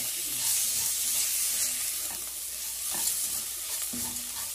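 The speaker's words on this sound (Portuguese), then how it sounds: "É essa fritada aqui, ó, que vai fazer toda a diferença na nossa soja" Soy frying in butter in a pan, a steady close sizzle with a bright hiss, punctuated by a few soft stirring scrapes against the bottom.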